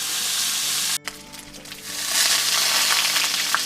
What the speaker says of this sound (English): This bacon I want quite crispy.